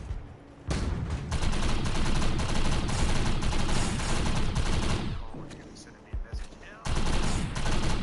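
Burst-fire assault rifle blasting away in the video game Defiance, dense loud volleys of gunfire that carry on almost nonstop, breaking off briefly twice before resuming, with a voice speaking at points.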